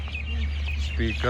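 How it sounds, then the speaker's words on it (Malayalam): A bird chirps and calls a few times over a low steady hum in the morning at Katara, Qatar, with a voice speaking briefly near the end. "ഞാൻ ആദ്യം വിചാരിച്ചത് ഈ പക്ഷി കരയുന്നല്ലോ"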